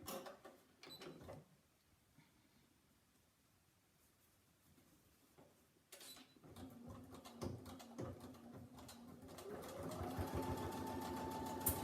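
A sewing machine stitches fabric for a Christmas wreath, starting with a faint whir and settling into a steady, close mechanical hum with rapid clatter that grows louder toward the end, mixed with scattered handling noises.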